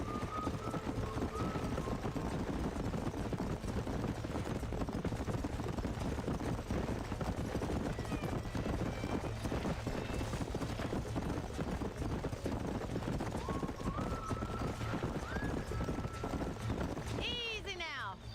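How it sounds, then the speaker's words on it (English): Horses clip-clop through the Red Dead Redemption game world, hoofbeats steady and close under continuous game music and ambience, with a brief whinny-like sweep near the end. "These are fine horses."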